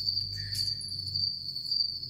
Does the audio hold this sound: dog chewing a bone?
no